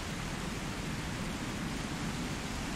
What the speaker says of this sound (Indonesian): Sementara di luar, hujan masih turun dengan derasnya